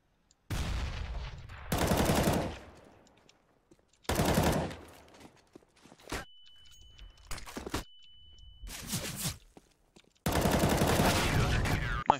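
Gunfire from Counter-Strike on the Mirage map, fired in several loud, dense bursts spread across the clip with short pauses between them.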